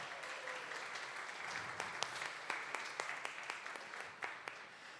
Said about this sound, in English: So one big round of applause for all of them.